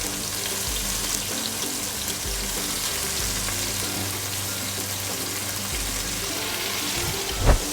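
Beef browns in a hot pan for kare-kare, a steady loud sizzle and crackle with a low background rumble and a brief clatter near the end, no talking.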